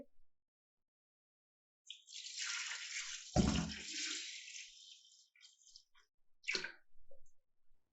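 Water pours into a pot of spiced beef nihari in a close, hissing splash that starts after a silence, with a brief sizzling burst partway through and a short final splash.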